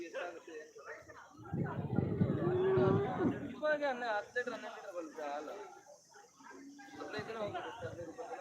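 A cow at a livestock market moos loudly nearby, a long low call, with people talking around it before and after.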